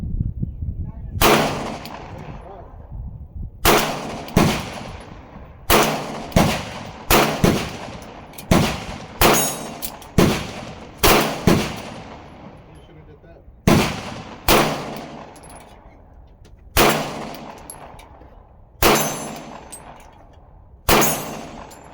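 Pistol shots from an Echelon 4.0 FC and a Glock 19X, sharp loud reports in irregular clusters of one to three, about sixteen in all over twenty seconds, each with a short echoing decay.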